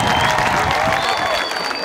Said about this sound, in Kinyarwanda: umukomera amashyi